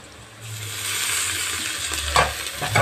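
A steady, close sizzle of ginger paste frying in hot oil with onions, with a few brief spoon or pan clinks near the end.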